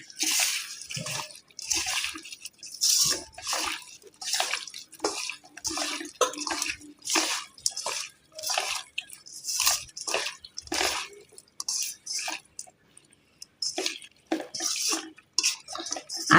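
Water is poured and sloshed into a pot of cut-spice beef curry in a series of uneven splashing pulses, close and fairly loud, with occasional pot and utensil knocks and no talk.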